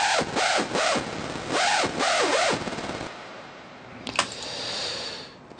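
Bounced hardstyle synth screech with pitch-bend swoops, several bright warbling bursts up front, then it fades into quiet low noise with a faint sharp click and hiss toward the end.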